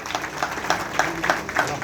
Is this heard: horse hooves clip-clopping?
no